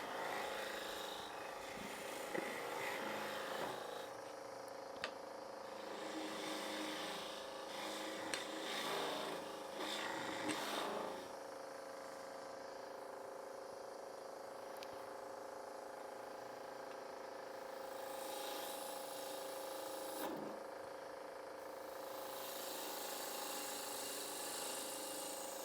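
A woodturning gouge cuts end grain on a lathe while turning a small honey pot, giving a steady continuous rasping hiss over the machine's hum, with brief louder bursts and no talk.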